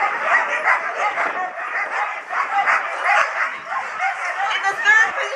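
Sled dogs in Alaska bark and yip excitedly in a dense, continuous chorus while a person talks over the noise.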